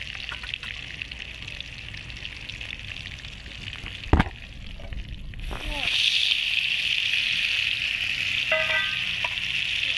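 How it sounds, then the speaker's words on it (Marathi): Brinjal pieces fry in oil on a wood-fired stove, giving a steady bright sizzle that grows louder and denser after a brief clatter midway, with background voices and household noise around it. "तर तेलात वांग तळून घेतलं लगेच शिजतं"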